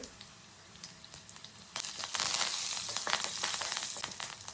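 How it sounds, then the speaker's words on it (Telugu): Tempering seeds, thin-cut green chilies and curry leaves hit hot oil for spinach chukka kura. The sizzle starts low, then swells into a loud, steady crackle about halfway through and keeps spitting until the end. "ఆయిల్ వేడయ్యాక 1 స్పూన్ తాలింపు గింజలు, అలాగే 2 పచ్చిమిర్చి సన్నగా కట్ చేసి తీసుకోవాలండి"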